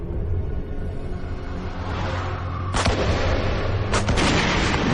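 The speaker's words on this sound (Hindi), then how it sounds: "गोली मत चलाओ, गुफा गिर सकती है।" Gunfire echoing inside a cave in an action movie scene, with several sharp bursts standing out loud and close over a dense, rumbling background din.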